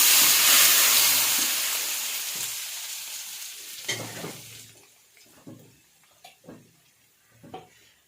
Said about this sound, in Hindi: ये तड़का हम इसके ऊपर डालेंगे।